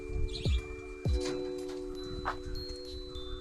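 Birds near a pet guinea pig enclosure give a few clear chirps and short calls over a quiet outdoor background, with faint other noises and no talk.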